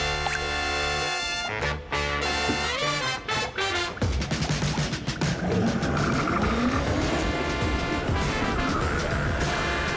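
Race car engine revving and shifting on a track in a virtual reality demo, with loud rising engine whine, tire squeal and a roaring pass that builds to a sustained close roar.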